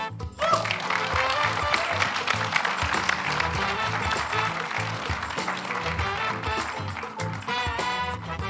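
Applause for a finalist at the ASI Best Sommelier of Asia & Pacific 2025 final rises as a dense, steady wash, with music playing beneath it throughout.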